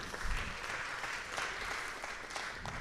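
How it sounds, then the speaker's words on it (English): Steady applause from an audience on a state House floor session, a dense, even wash of clapping that holds at moderate loudness throughout, with no voices standing out. "You can clap for that."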